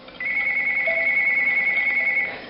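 A telephone rings in a room, one steady, piercing electronic tone held for about two seconds and fairly loud, then it stops abruptly, with no talking.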